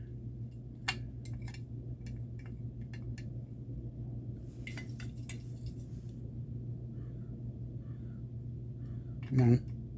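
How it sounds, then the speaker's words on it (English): Crows cawing outdoors, a scattering of short distant caws heard faintly through a window over a steady low hum, with a louder clatter near the end. "I don't know if you can hear those crows cawing outside"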